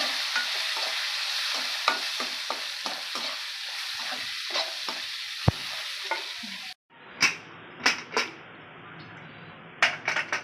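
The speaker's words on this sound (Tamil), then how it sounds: "சின்ன வெங்காயம் பொடியாக கட் பண்ணி வச்சுருக்கோம் அதையும் போட்டுக்கலாம் இது எல்லாமே நல்லா வதக்கிடலாம்" Small chopped onions sauté with asafoetida in a pan, a close, steady sizzle broken by frequent spatula scrapes and clicks, then a quieter stretch with a few sharper stirring knocks, with no one talking.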